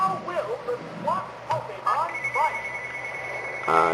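A telephone bell rings steadily in the background behind the electronic music and sound effects of a Pokemon Stadium battle, holding a constant high tone through the second half.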